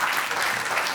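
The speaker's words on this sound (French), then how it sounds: "On peut l'applaudir, vraiment." Audience clapping at a live event held steadily and dense for a brief moment, fairly loud with no voices on top.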